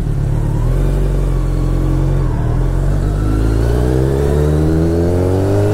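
A Kawasaki ZX10R superbike engine revs loud and close, its pitch climbing steadily as the bike accelerates with no talk over it.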